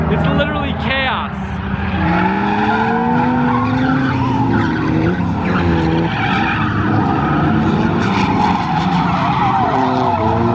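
Cars drifting on the Nishi Short layout, with loud, sustained tire squeal and skidding, revving engines rising and falling, several cars close by, and people talking underneath.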